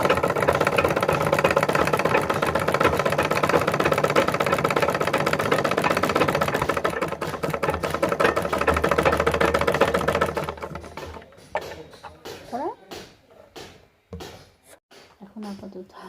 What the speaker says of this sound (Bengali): মেশিনটা চালিয়ে দেখবো ঠিকঠাক হচ্ছে কি না দড়িটা